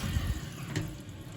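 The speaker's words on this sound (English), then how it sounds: "And you turn the water back on." Soft, steady rush of water flowing into a tank, a quiet continuous hiss and trickle with no voices.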